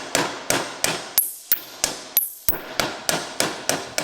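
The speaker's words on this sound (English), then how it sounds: "Lots of little taps is better than very heavy blows when you're getting the bearings out." Steady series of about a dozen sharp hammer taps driving out the rear wheel axle bearing of a Vespa P200e scooter engine, evenly spaced, close and clear with no talk.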